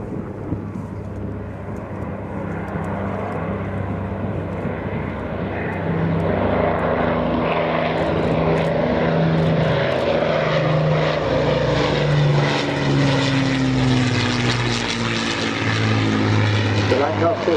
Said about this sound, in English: the Avro Lancaster 1.